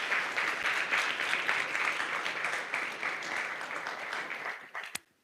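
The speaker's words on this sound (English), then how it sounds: "a big round of applause" Applause at a physics competition final and awards ceremony fills the room for several seconds, a dense, moderately distant clatter of clapping hands that tapers off abruptly at the end.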